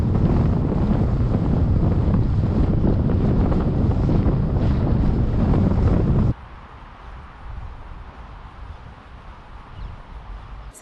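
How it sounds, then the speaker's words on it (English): Strong wind buffeting the microphone at a horse yard, a loud continuous roar that drops abruptly to a lower, gustier rumble partway through. "It is incredibly windy"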